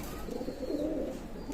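Pigeons of the high-flying Pakistani breed, a pair of Dabla birds, coo softly and continuously in a loft, a low murmuring call holding steady throughout with no voices present.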